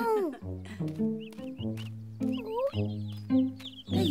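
Cartoon chicks clucking and peeping in a children's animated farm scene, with high chirps scattered over sustained musical tones, the bird calls fairly faint and layered against the music.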